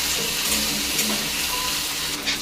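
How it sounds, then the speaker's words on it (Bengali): Potato, eggplant and pumpkin being stirred in a hot pan: a steady sizzling fry with soft scraping from the stirring, close and continuous. "তো এই দেখো আলু, বেগুন, কুমড়ো সব দিয়ে দিয়েছি, দিয়ে এবার একটু নাড়িয়ে নিচ্ছি"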